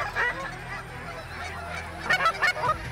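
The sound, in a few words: ducks calling while flying in, waterfowl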